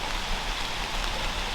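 Steady rain falls during a bow hunt from a stand, a dense even hiss of drops filling the short stretch with no voices.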